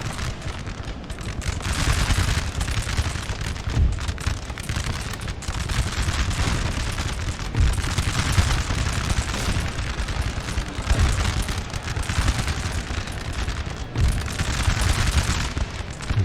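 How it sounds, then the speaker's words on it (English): Musket volleys crackle almost without pause in a Napoleonic battle in Napoleon: Total War, French Empire campaign of 1805, a dense roar of gunfire with heavier booms mixed in, loud and close, with no talking. "Give them a volley."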